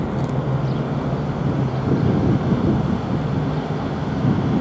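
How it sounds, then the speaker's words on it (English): Heavy trucks idle their engines through the night at a noisy truck stop beside a Days Inn in Buckeye, Arizona, giving a constant, moderately loud low drone with steady broadband rumble and no speech. "Listen to the noisy truck stop here."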